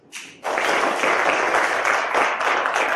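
A dignitary's pledge at a college freshers' day event draws a crowd's burst of clapping that starts abruptly after a brief lead-in and stays dense and loud.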